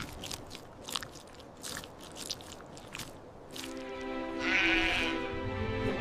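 A sheep bleats up close, with soft chewing or biting sounds nearby, then a louder sustained bleat toward the end.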